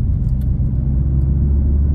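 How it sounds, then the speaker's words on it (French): A Honda Civic Type R FK8 engine pulls hard with a loud, dense, low rumbling drone that holds steady for two seconds, with no voices over it. "La voiture commence à hurler"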